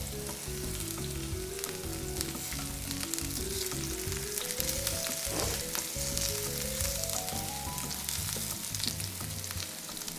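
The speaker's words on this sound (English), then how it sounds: "Now to this, I'm going to add some thinly sliced ring onions" Thinly sliced onion rings fry in hot oil as the base for shakshuka, a steady close sizzle running the whole time with no talk over it.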